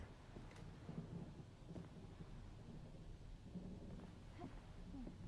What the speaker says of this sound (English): That loud ass lightning, bro.